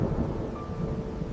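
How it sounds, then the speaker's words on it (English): Low thunder from an approaching storm rumbles continuously over steady rain, a deep, muffled roll at moderate distance with no voices. "A storm is coming fast. We need to leave now."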